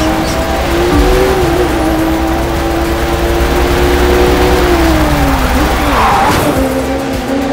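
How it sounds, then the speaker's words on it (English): Race cars in a nighttime street race in The Crew 2 roar loud and close, a steady engine drone with shifting pitch under constant tire squeal, swelling into a sharper skid near the end. "We're starting off with a nighttime street race challenge"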